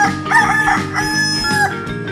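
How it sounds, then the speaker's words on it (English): A rooster crows loudly in a 3D animal game, its long cock-a-doodle-doo call rising over steady background music, close and clear. "Chicken."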